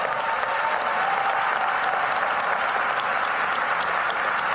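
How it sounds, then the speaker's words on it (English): Audience applause at Yeshiva University: a dense, steady wash of many hands clapping, sustained at even loudness throughout with no voices standing out. "he gets an applause after saying that"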